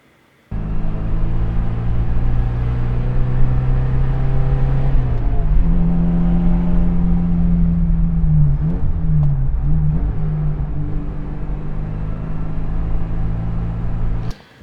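A car engine drones steadily from inside the cabin, with a low hum that shifts pitch as the car changes gear or speed, continuous for about fourteen seconds and heard alone.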